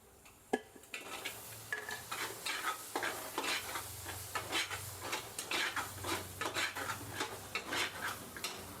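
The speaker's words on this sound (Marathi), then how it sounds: "हे मिश्रण सगळं जे आहे ते व्यवस्थित मिक्स करून घ्या" A spoon stirs and scrapes a roasting masala and tomato mixture in a pan, giving repeated rhythmic metallic scrapes and clinks over a soft background sizzle, close and fairly quiet, with no talking.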